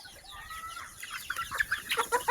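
Brahma chickens cluck nearby in short, repeated bursts that grow busier and louder toward the end, with soft background noise between calls.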